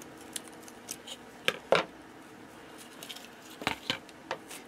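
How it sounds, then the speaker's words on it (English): Scissors snipping through a thick, stiff material cut into base pieces for a bottle-cap birdcage craft, a few sharp separate snips at close range over quiet room noise. "So I'm just going to cut some pieces off here that'll make a base."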